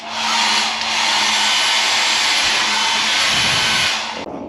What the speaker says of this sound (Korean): 헤어드라이기가 이렇게 꽂혀 있습니다